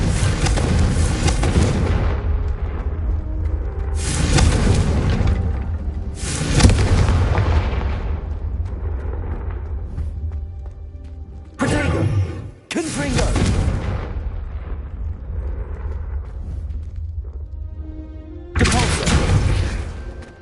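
Repeated fiery magic explosions from the Confringo spell in the video game Hogwarts Legacy, loud booming bursts every few seconds with crackling decay, some sharp blasts, under occasional speech.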